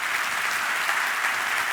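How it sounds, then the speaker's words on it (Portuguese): A church congregation bursts into dense, continuous applause that holds at an even level for a short stretch, with no voices rising above it. "Vou dar uma salva de palmas"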